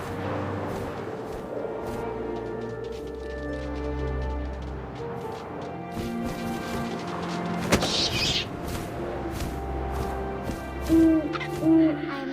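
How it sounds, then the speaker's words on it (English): An owl hoots within the atmospheric soundscape of the video game What Remains of Edith Finch, with soft, low sustained tones and wind-like ambience. Scattered tones and a few louder thumps come and go over about twelve seconds. "And suddenly, I was an owl."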